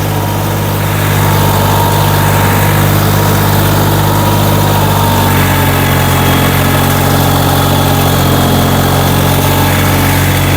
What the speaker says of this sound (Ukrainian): Трактор йде без димка, без нічого.